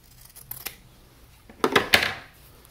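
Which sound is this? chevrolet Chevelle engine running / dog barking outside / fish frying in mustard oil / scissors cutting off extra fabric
scissors cutting off extra fabric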